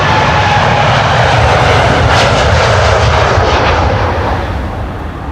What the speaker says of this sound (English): I am expecting that 747 will be taking off from this runway.